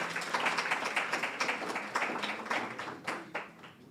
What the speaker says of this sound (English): Clap her again.